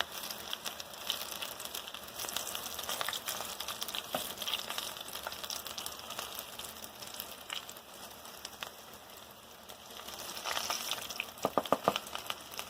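Breaded mushroom cakes fry in a pan with a steady, moderately quiet sizzle and crackle that swells near the end, with a few brief sharper pops and scrapes.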